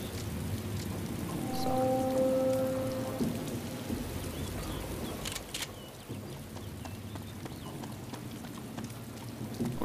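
Rain falling in the survival game DayZ, a steady wash of drops spread across the whole stretch, with some brief tonal game sounds early on and no talk.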